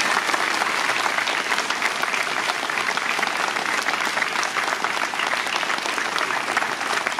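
Dense, steady applause from a school audience honouring students at a year-end ceremony, many hands clapping at once, loud and continuous without a break, no voices over it.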